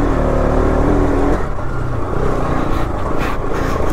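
A Bajaj Pulsar RS200 motorcycle rides off-road, its engine droning loudly and steadily, then shifting and easing with rougher revving as it moves over the terrain, with no talk.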